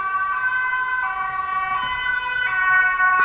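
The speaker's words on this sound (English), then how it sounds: "The sirens are loud here." Emergency vehicle sirens wail on a London street, several overlapping tones stepping up and down, loud and close with steady traffic noise underneath.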